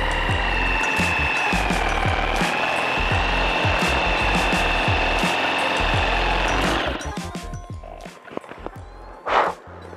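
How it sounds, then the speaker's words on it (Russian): A spade drill bit boring into the end grain of wood gives a steady, loud whining grind with rough chatter for about seven seconds, then it stops and leaves quieter handling clatter. "Перо в торец вообще практически не вгрызается"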